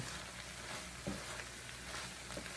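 Homemade garden-vegetable stir-fry being mixed in a pan, a faint continuous sizzle with an occasional soft scrape of the utensil, distant and quiet, no talking.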